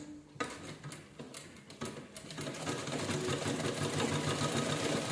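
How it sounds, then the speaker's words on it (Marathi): A sewing machine stitches an old shirt into a child's cap, starting with a few uneven bursts of motor and needle ticking before settling into a steady, fairly quiet run. "आता इथे शिलाई करून घेते, तुम्हाला दाखवते हो का. शिलाई कशी करते बघा."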